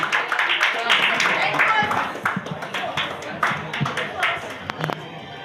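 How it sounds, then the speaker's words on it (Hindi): Audience applause at an Urdu poetry seminar (mushaira), a crowd clapping steadily and fairly loudly for several seconds, with voices talking over it and the clapping thinning toward the end. "तालियों की गूंज"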